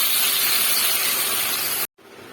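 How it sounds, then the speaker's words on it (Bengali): A paste of ground ginger, garlic, tomato and onion hits hot oil, giving a loud, steady broadband sizzle that runs close and unbroken for nearly two seconds before cutting off abruptly to a quieter hiss. "এবার এখানে আমি তেল দিয়েছি, আর এখানে আদা রসুন আর টমেটো আর পেঁয়াজ গ্রাইন্ড করে নিয়েছি, এইটাই তেলের মধ্যে ছেড়ে দিলাম।"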